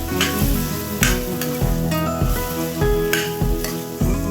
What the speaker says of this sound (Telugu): ఇప్పుడు బంగాళదుంప ఇలాగా మెత్తగా చేసేసుకున్నాం కదండి, ఉడకబెట్టుకుని ఇది వేసేసుకుందాం. ఇలా కలిపేస్తాం.